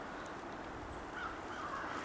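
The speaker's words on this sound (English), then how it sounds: "Like a murder of crows, ominous." Crows cawing as they circle overhead in a New England forest, faint distant calls carried over steady wind noise.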